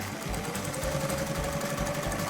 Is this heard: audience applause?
no